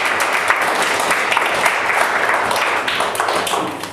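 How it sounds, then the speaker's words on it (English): Church congregation at a career guidance session applauds, a sustained patter of many hands clapping evenly, moderately close, slowly thinning toward the end. "So let's clap hands for you."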